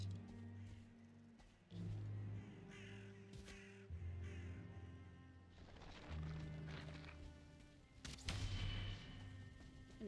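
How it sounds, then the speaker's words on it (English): Crows caw in a Valheim game world, a few harsh calls rising faintly over a low droning ambience, with muffled thuds scattered between them. "Birds. Lots of birds."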